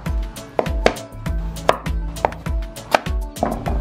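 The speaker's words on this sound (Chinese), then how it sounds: "南瓜给它切成小块儿" A knife chopping pumpkin into small pieces on a cutting board, a quick steady run of close, loud thunks about three to four per second with no talking.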